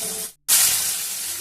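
Potatoes frying in oil, a loud, steady, close hiss that breaks off for a moment and then returns at full strength, with no talk.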